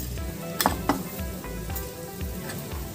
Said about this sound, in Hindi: इसके साथ ही हम इसमें थोड़ा सा जीरा डालेंगे, हाफ चम्मच